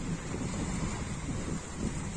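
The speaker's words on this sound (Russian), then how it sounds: "Сейчас немножечко так волна поднялась." Sea waves wash onto a warm beach on a morning after a storm, a loud, continuous rushing surf heavily mixed with wind buffeting the microphone.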